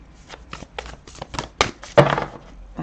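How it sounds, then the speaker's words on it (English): Thick, good-quality oracle cards are shuffled by hand in quick, irregular papery flicks and slaps that grow louder toward the end, close to the microphone with no talking. "I can't shuffle these as I did the other ones, because these cards are really thick."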